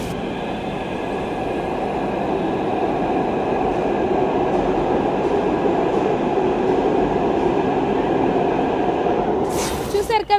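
A Hyderabad Metro train runs with a loud, steady rumble and rolling hum throughout, overlaid by a voice, and ends with a brief burst of sharp noise.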